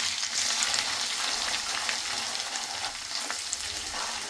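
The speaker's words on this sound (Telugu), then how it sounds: "ఆనియన్స్ అయితే మంచిగా ఫ్రై అయిపోయినాయి చూసారా" Onions with ginger-garlic paste, salt, turmeric and chili powder frying in a pan for a mutton fry, a steady close, loud sizzle throughout with faint stirring scrapes and no talk.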